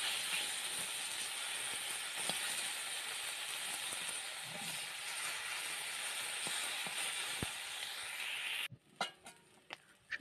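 Fish frying in oil in a pan, a steady loud hiss and crackle of sizzling that stops near the end, leaving a few soft clicks, with no talking.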